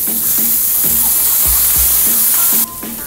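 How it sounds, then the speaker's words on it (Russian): Meat sizzles loudly in a pan with added butter, with periodic stirring clanks and scrapes under a continuous frying hiss that drops sharply near the end. "Добавляем сливочное масло."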